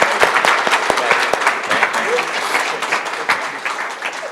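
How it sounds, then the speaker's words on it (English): A conference audience applauds panelists and a moderator with steady, dense clapping that fades slightly toward the end, close and sustained over a few seconds. "have applause for our panelists and our moderator."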